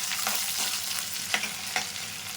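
Curry leaves fry in hot ghee for flatbread-rice (poha) upma, a steady broadband sizzle with a few sharper crackles and pops breaking through, close and continuous, no voices.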